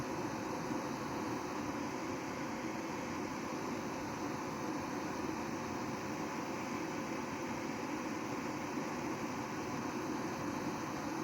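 Cooling fans of an ANERN AN-EX-PRO-8200 solar inverter run steadily as a constant broadband whoosh with a faint hum, unbroken and even in level throughout, with no talk.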